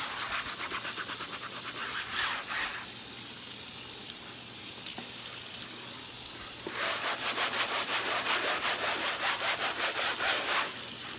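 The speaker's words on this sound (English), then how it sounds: "So I gotta scrub a little bit harder." Micro scrubber gloves scrub lettuce in a sink, giving a close, continuous rough rubbing and swishing with quick rhythmic strokes that grow louder and faster toward the end.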